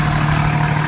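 Fire engine idling during a parade, a steady loud low diesel rumble with a constant hum, heard briefly and without other sounds.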